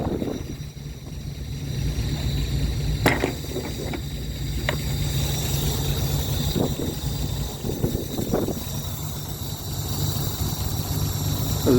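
A 1966 Austin Healey 3000 MK3 BJ8 engine idles steadily, a low even rumble with a faint hum, broken by a few light clicks and knocks nearby.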